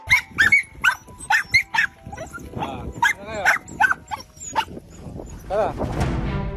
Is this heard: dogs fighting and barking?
yes